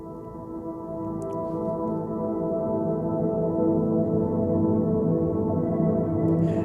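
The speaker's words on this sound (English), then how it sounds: "it's like a very textural piano-like sound" A textural, piano-like synth patch called Drifting Away holds a dense, droning chord that slowly swells louder, with soft airy shimmer on top and no talking.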